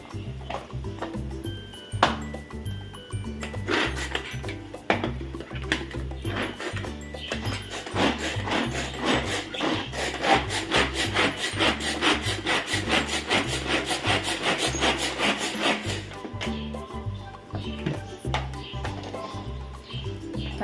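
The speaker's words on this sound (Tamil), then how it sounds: "நம்ம இந்த மாதிரி சாப்பரில் போட்டோன்னா ஒரே 2 செகண்டில் வந்து நல்லா ஃபைன் சாப் ஆகிடும்" Tomatoes being finely chopped in a pull-cord hand chopper, fast rapid whirring and clattering bursts of blades against plastic, close and steady in repeated strokes, with a few sharper knocks at the start.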